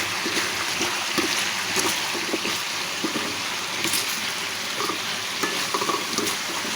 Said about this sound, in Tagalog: Para magisa pa po natin yung papaya.